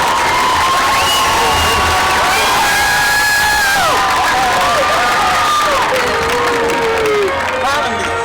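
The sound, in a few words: football crowd applauding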